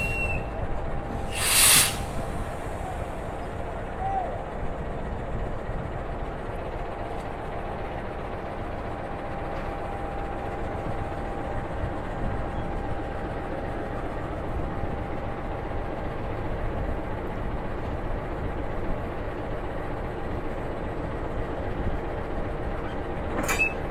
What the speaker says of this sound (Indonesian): proses masang lokomotifnya itu halus sekali